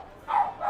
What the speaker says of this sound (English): My dogs are barking in celebration in the background